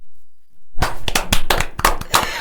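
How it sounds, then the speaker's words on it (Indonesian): An audience bursts into sharp, close clapping after a brief silence, welcoming a guest at an Advent gathering, with loud irregular claps filling the rest of the moment. "Tolong beri tepuk tangannya dulu"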